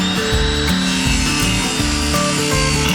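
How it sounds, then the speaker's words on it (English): A circular saw cuts an angle through a clamped 2x4, with a loud, continuous high whine and a steady rasping bite of the blade through the wood, close and alone. "I'll clamp down the end and I'll use my circular saw to cut the angle."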